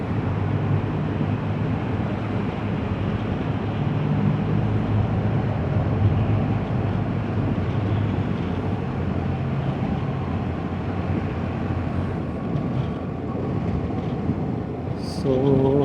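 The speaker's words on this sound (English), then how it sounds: "So we are going through a tunnel." A BMW motorcycle riding through a tunnel in Japan, a loud, steady, rumbling roar of engine and wind echoing in the enclosed space, constant throughout with no talk.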